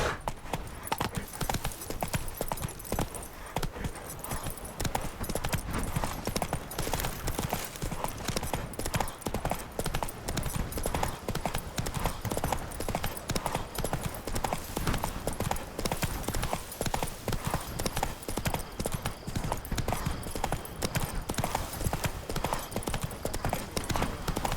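The horse Roach gallops in The Witcher 3: Blood and Wine, a fast, steady drumming of close hoofbeats that carries on unbroken, with a brief quieter patch near the start.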